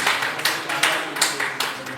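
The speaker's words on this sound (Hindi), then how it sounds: "जोरदार ताली एक बार फिर सुना" Audience applause at a Holi celebration gathering, a dense crowd clapping steadily and close, with rhythmic swells in the clapping.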